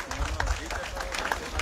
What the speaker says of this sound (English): Let's clap for a President-elect.